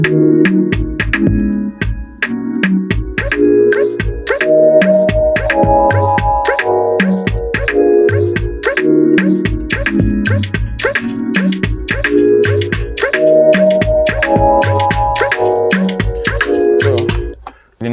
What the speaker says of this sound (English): So the sound with the drums now sounds like this.